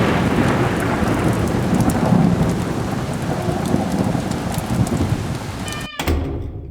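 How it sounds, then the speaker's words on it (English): Rolling thunder rumbles steadily beneath heavy, hissing rain in a thunderstorm, loud and continuous throughout, with a sharp drop and crackle near the end. "heard as the rolling thunder ventured closer"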